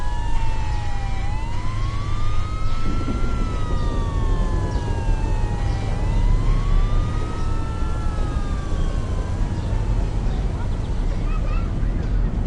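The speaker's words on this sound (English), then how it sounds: "the sound of an emergency vehicle approaching in the distance" An emergency vehicle siren wails in long rising and falling sweeps over steady road rumble, several overlapping tones rolling on continuously at moderate distance.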